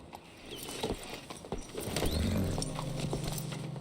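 Horse hooves clip-clop in Red Dead Redemption 2, a faint, uneven run of soft footfalls at close range that grows slightly busier, with a low hum rising underneath toward the end.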